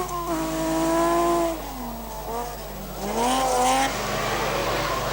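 Rally car from the 1985 Masterrally, a privately entered rather than works car, driven hard along a gravel road: a loud engine revving and falling through gear changes, its pitch sweeping up and down, with no talk.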